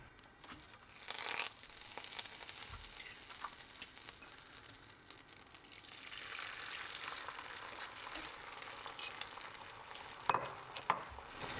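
An egg fries in a pan while an omelette-style dish is made, giving a steady sizzle with crackling bursts and a couple of sharp clicks near the end. There is no talking.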